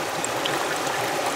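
Continuous hissing trickle of water squeezed from a soft bag through a Katadyn Be Free filter into a Smartwater bottle, a close, steady stream with no pauses.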